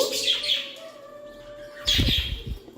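A pet parrot gives a few clear, tonal calls and chirps up close, with a brief rustle or flutter near the end.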